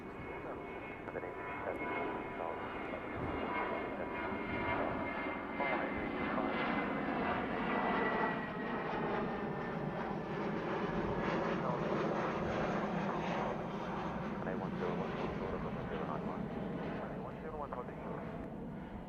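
A jet aircraft takes off from runway 09 right at Heathrow Airport, a continuous, loud, roaring engine rumble sustained throughout with a slow swell, while a person talks over it.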